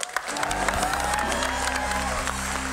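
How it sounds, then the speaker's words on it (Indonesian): Audience applause mixed with crowd cheering and a few whoops at a prize-giving on stage, loud and lively, with a low sustained musical tone underneath. "Tepuk tangan buat mereka."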